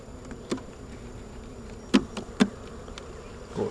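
Honeybees swarm around an open hive during an inspection, a soft, close insect drone marked by a few sharp ticks and taps.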